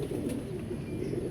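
An Indian pigeon coos softly in a low, rumbling murmur, close and steady, with hum-like throaty tones and no talking over it.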